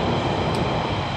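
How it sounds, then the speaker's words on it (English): Maintenance train passing close by, a dense loud rumble of wheels and engine filling the moment continuously, no voices. "Oh look, maintenance trains."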